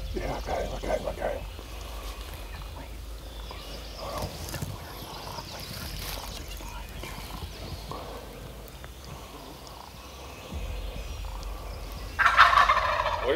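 A wild Tennessee gobbler turkey calls outdoors during a spring hunt. Faint, distant gobbles come through quiet woodland ambience, followed near the end by a louder, closer burst of gobbling. Soft voices murmur in between.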